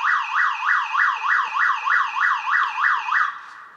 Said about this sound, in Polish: albo alarm u sąsiada się włącza